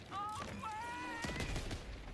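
Explosion in the video game Borderlands 4: a loud broadband blast bursts out about halfway through, with crackling, gunfire-like rattle around it over a busy game soundscape.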